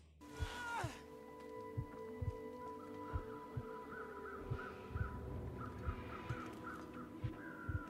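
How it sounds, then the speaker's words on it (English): Carrion crows cawing in the survival game The Long Dark, repeated rasping calls at middle distance over a rhythmic heartbeat-like thump and low wind ambience, with a brief sharp sound at the start. "Those carrion birds coming in."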